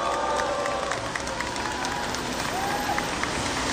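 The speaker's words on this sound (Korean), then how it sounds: "박수 부탁드리겠습니다." Outdoor rally crowd at a Korean union sit-in protest applauding, a dense, steady wash of clapping that fills the whole moment, with a faint voice underneath.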